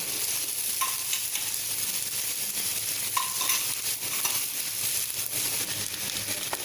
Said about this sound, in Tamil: வெண்டைக்காய் அடுப்பை சிம்மில் வச்சுட்டு ஒரு 1 நிமிஷத்துக்கு இந்த மாதிரி கரட்டி விட்டுக்கோங்க